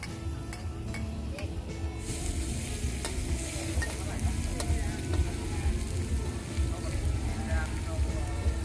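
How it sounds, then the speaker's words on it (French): Pineapple fried rice with shrimp stir-fried at a Thai street food stall, with a steady loud sizzle and scraping, clattering stirring strokes throughout, talk faintly beneath. "Madame prépare un pineapple fried rice with shrimp, veut dire un riz frit avec ananas et crevettes"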